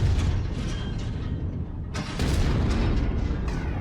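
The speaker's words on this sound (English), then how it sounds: "he's got ammo explosion" A mech's ammunition cooks off in a MechWarrior battle, a loud sustained rumbling boom with a second burst of blasts partway through, dense low-end roar throughout.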